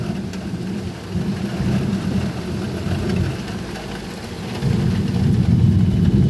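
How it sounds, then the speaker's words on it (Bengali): Heavy rain pours down in a continuous loud wash, with deep rolling thunder rumbling underneath and swelling stronger near the end. "কেমন বৃষ্টি শুরু হয়ে গেল জোরে"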